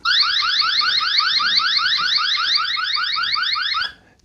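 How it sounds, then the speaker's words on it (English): An eufy C210 indoor security camera sounds its built-in alarm: a loud, rapidly warbling electronic siren sweeping up and down in quick repeated cycles for about four seconds, then cutting off abruptly. "So if we press this little alarm button, it does have an alarm."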